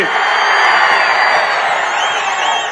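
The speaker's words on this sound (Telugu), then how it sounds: "హుషారుగా ఉంటే గట్టిగా చప్పట్లు కొట్టి హుషారుగా ఉన్నామని చెప్పండి" A large crowd at a political rally addressed by CM Chandrababu in Rayalaseema lets out a loud, sustained roar of cheering and whooping that fills the whole stretch without pause.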